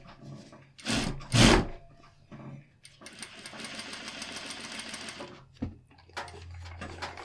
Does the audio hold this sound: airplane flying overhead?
no